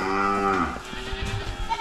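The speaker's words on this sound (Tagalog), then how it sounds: "Nag-ingay agad yung mga baka natin." Several cattle low together in a loud, overlapping chorus of drawn-out moos on a farm, one long harmonic call fading after a second into shuffling and lighter background noise.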